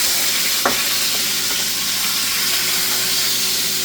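A burger topped with onions fries on a hot surface with a steady, close sizzle, broken by a quick scrape of a spatula and a soft thump as it is flipped.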